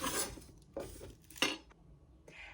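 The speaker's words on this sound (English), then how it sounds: "So first we are going to begin chopping up our herbs. So the first is going to be onion." Onion being chopped with a knife on a cutting board during home preparation of fire cider, a few separate knife strikes landing close and clear with short pauses between them and no talking.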